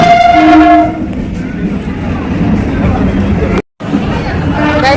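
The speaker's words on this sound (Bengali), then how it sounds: "এটা সীমান্ত থেকে শিয়ালদা ট্রেন ঢুকেছে।" A Sealdah-bound local train from the border pulls into a station, sounding a horn blast at the start before its heavy rumble and clatter roll on loudly, with crowd chatter mixed in.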